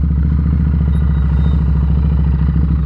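A motorcycle engine idles steadily, held in the clutch friction zone with no throttle, giving a loud, close, even mechanical thrum that never changes pitch.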